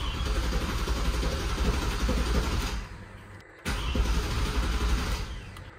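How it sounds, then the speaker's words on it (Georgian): A Genesis Coupe 5.0 V8 engine cranked by its starter, a loud continuous mechanical whirring that drops off briefly, then resumes for a second stretch, close by. "ძრავი უნდა ვატრიალო ჯერ სტარტერით"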